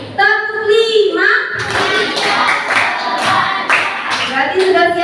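A fourth-grade class chants a counting routine together and claps in rhythm, sharp clustered hand claps ringing out between the children's voices, close and loud.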